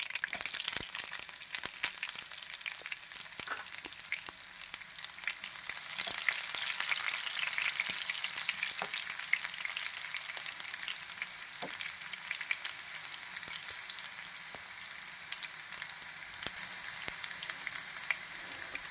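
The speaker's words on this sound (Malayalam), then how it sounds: "കടുക് പൊട്ടി വരുന്ന അതിലോട്ട് ചെറിയ ഉള്ളി 4 എണ്ണം ചെറുതായിട്ട്, വളരെ ചെറുതായിട്ട് അരിഞ്ഞിട്ട് ഇട്ട് കൊടുക്കാം." Finely chopped shallots, four in all, fry in hot oil with crackling mustard seeds, producing a dense, continuous sizzle with scattered pops throughout.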